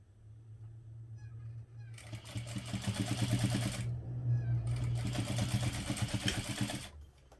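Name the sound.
sewing machine top stitching the bottom of a pocket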